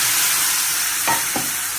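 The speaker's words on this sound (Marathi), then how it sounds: "टोमॅटो कांदा भाजूया" Onion and tomato sizzling in a hot pan with a hissy, steady fry, and a couple of quick stirring scrapes near the end.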